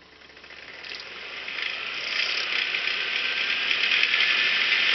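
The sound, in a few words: compressor test machine starting and running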